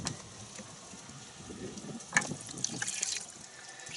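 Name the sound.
dirty car wash bucket water being dumped out slowly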